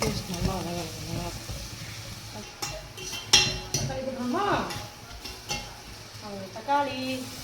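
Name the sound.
sautéing ginger garlic paste with onions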